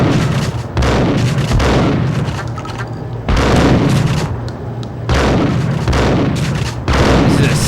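Loud, heavy gunfire from the video game Max Payne, bursting in repeated sustained volleys with brief dips between, close and dominant with no talk over it.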